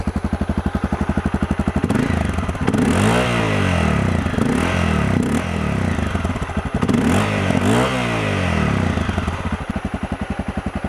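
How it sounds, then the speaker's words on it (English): A Honda CRF250L with a modified aftermarket exhaust revs repeatedly from idle, each throttle blip rising and falling in a loud, close burble with no talking over it. "so you can hear the exhaust note on the modified exhaust."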